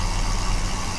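Tractor with a 145-horsepower engine idling in Farming Simulator 17, a loud, constant low engine drone with a steady hum and no talk over it.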